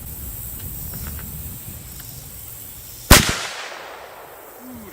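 A single sharp, loud .25-06 rifle shot firing Remington Core-Lokt 120 grain ammunition outdoors, a crack followed by a short decaying echo against faint background hiss.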